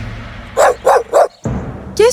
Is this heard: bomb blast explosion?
no